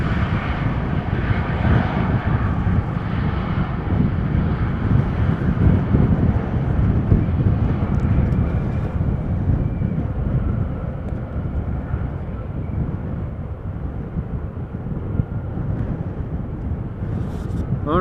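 A jet airliner lands in gusty crosswind after a storm at Amsterdam Schiphol Airport, its engines a steady, loud roar mixed with wind buffeting the microphone throughout.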